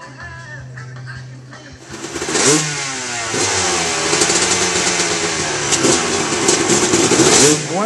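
Freestyle motocross motorcycles rev hard at an outdoor show at Shelburne Museum, engines rising in repeated loud swells of throttle after a quieter start, with no talk over them.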